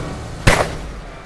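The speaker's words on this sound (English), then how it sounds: "I like how this sounds like a gun. Sounds like a bullet, even though it's a crap weapon." A gun-like weapon in the Teardown video game fires one sharp, loud shot, a sudden blast that fades quickly into a short tail, with no talk.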